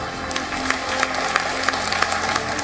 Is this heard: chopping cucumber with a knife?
no